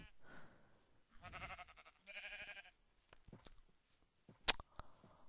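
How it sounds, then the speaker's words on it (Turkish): Minecraft sheep bleat in two clear, wavering calls at close range, followed by light game footsteps and a sharp click, quiet overall. "Koyundan başka bir şey yok etrafta ya."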